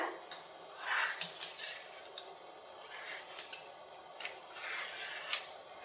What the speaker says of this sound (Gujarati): બેમાં આપણે આવી રીતે ડીશમાં કટ લગાવી લેશું.